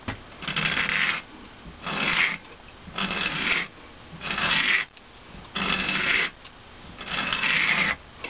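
A hand valve seat cutter grinds metal in a valve seat of an IHC engine, each turn a loud, close rasping scrape lasting about a second, repeating six times in a steady rhythm without talk.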